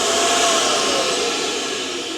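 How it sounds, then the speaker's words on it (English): A built-in floor vacuum in an LMTV military overland camper runs with a steady, loud, airy whoosh close by, then cuts off at the very end. "is a floor vacuum, and if I kick this up, it will turn on"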